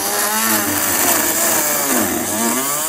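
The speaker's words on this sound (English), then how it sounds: "I'm just going to use a rotary tool with a plastic cutting blade to trim this out." A rotary tool with a plastic cutting blade trims a bracket during a Curt trailer hitch install on a 2020 Chrysler Pacifica, a loud close high-pitched whine with its pitch dipping and rising as the cut loads.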